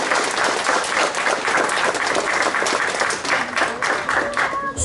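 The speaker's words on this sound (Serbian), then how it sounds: "Može jedan aplauz za Vesnu" An audience at a Vidovdan awards ceremony gives a student a loud, sustained round of applause, dense overlapping clapping that holds steady throughout.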